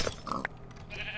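A cow in the Minecraft SkyFactory game, kept in a jar, gives short synthetic lowing calls, brief and close, with a couple of quick bursts, then a faint sustained tone trailing after.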